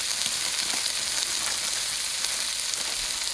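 Marinated pork sizzles hard in a hot stir-fry pan over high heat, a dense continuous hiss and crackle, close and steady throughout with no voices.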